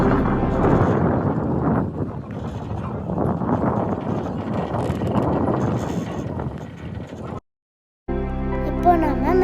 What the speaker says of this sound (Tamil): அந்த காற்று சவுண்டு நீங்களே கேட்டு பாருங்கள்